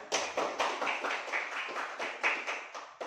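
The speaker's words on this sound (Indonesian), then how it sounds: "Kita berikan dulu tepuk tangan dari kelompok 2." Students in a classroom give a short round of clapping for group two, sounding as a quick, uneven burst of hand claps that fades into scattered taps.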